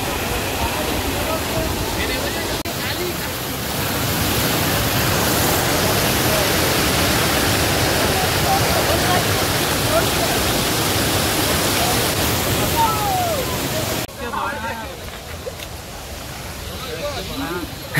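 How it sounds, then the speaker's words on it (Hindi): A hidden waterfall near Attapur Suncity in Hyderabad, heard as a steady, loud broadband rush of falling water that fills the scene, then drops somewhat in level near the end. "तो बस यहाँ है वाटरफॉल के करीब है"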